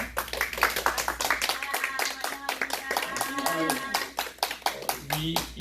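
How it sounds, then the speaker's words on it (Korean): A church congregation gives a welcoming round of applause, with rhythmic, fairly close clapping in a steady pattern and some voices and singing-like tones mixed in. "크게 한번 환영의 박수 드리겠습니다"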